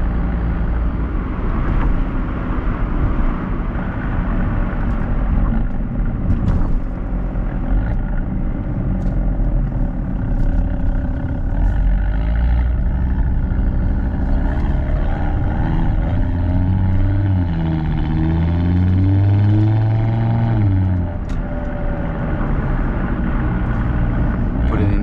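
A 2015 Audi RS3 with its 2.5 TFSI five-cylinder drones loudly from the exhaust while driving, a continuous deep rumble whose pitch rises and falls as it accelerates and shifts, close and uninterrupted.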